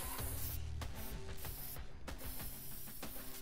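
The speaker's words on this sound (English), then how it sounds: "Aerosol can." An aerosol spray can in the inFAMOUS Second Son video game hisses in short repeated bursts with clicking, rattling mechanical sounds between them, steady and fairly close, with no talking.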